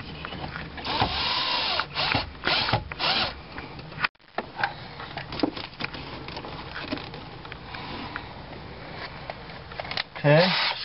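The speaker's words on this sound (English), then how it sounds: "just gotta drill my other hole" A power drill bores a hole in the dashboard of a 2004 Honda Civic during a radio install, giving close whirring bursts and clicks, with someone talking over parts of it.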